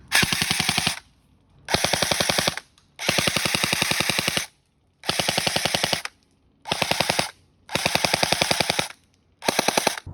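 An electric airsoft gun fires full-auto bursts with a battery not meant for it, a loud, close rapid mechanical rattle in seven separate strings of roughly one second each, split by short silences.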